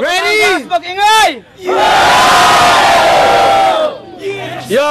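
Street rap battle crowd in Batangas breaking into a loud burst of cheering and shouting, bracketed by an amplified host's voice before and after.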